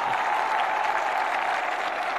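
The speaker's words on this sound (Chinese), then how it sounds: "我们掌声送给来自巴西的麦肯·古斯塔沃。" Steady applause from a crowd at an MMA cage-fighting event as a Brazilian fighter is introduced, a dense, even wash of clapping held at one level throughout.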